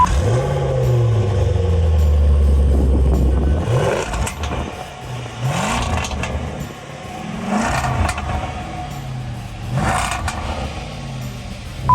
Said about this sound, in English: the cold start is absolutely insane. Insert cold start video here.